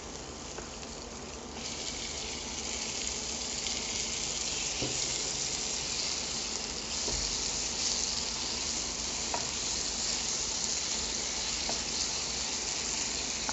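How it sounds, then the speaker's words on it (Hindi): Steady sizzling of tomatoes dropped into a hot pan for rajma masala, a continuous close frying hiss with faint stirring clicks, no talking. "अब हम इसमें टमाटर ऐड कर लेते हैं।"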